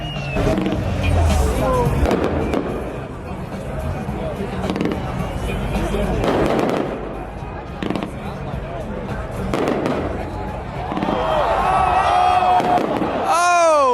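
Fireworks pop and crackle in repeated bursts amid loud crowd noise and chatter at a night run event, with a whistling rocket rising near the end.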